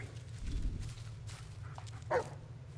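Bullet the dog in the game Blair Witch, a few faint sniffs and low woofs near the start and a short sharper yelp later, over a low steady ambient hum.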